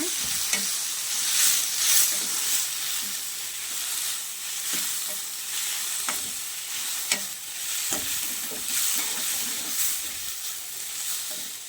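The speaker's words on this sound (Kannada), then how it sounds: "ಪುದೀನ ಹಾಕಿ ಒಂದು ಸ್ವಲ್ಪ ಮೆತ್ತಗಾಗೋ ಥರ ಅಷ್ಟೇ ಫ್ರೈ ಮಾಡಿ" Mint leaves frying in a pan, a constant bright hiss and sizzle with occasional soft stirring scrapes and taps throughout, close and steady.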